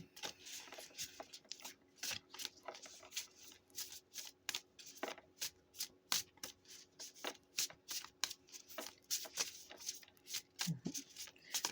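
A deck of forest animal oracle cards is shuffled by hand, giving quick, close, papery riffles and slides in an irregular rhythm that keeps up alone and fairly quiet.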